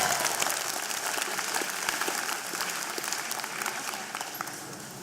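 An audience at a university convocation ceremony applauds, dense sustained clapping from many hands filling the whole stretch at an even, fairly loud level.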